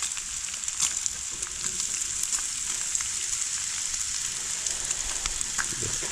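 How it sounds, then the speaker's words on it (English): Sausage sizzling on a Blackstone flat-top griddle, a soft steady frying hiss close by with scattered small pops and crackles, no voices. "we're going to get our sausage on here too."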